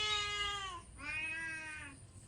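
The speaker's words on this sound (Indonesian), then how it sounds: "Kucing aku mengeong-ngeong guys" A cat gives two drawn-out meows, close and clear, the second slightly shorter, against quiet background noise.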